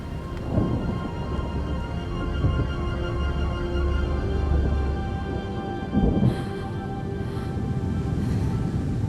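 A thunderstorm in RiME: a steady hiss of rain with deep rumbling thunder underneath and a couple of sharper cracks, continuous and fairly loud throughout.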